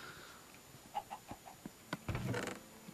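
Minecraft chickens cluck in a flock in the Xbox 360 edition, with short soft clucks scattered across the stretch. A denser, louder cluster of clucking follows near the end, all fairly faint and without talk.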